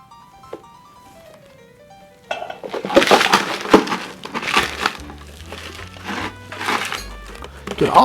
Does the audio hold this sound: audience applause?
no